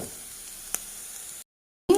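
Onion, garlic, cabbage and carrot sauté in hot oil with an even, soft sizzling hiss and one small clatter, then a brief silence before the frying sound returns.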